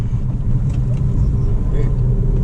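A Honda Amaze diesel car drives and brakes, its low engine and road rumble steady and close throughout, with a voice talking over it.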